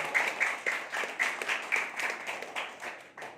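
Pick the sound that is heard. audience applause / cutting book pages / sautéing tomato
audience applause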